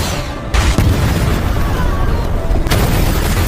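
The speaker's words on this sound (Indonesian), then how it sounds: "sebuah serangan RPG sukses membuat satu mobil pengawal Donovan meledak." A loud, booming explosion as an RPG blows up a car, followed by a sustained roar and crackling rumble that fills the whole span, with a second surge near the end.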